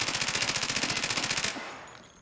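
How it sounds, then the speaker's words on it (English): Suppressed full-auto gunfire in Escape from Tarkov, a rapid even burst of roughly twenty shots for about a second and a half, then stopping with a faint tail. "when I hold down left click and put it on full auto, the suppressor gets red"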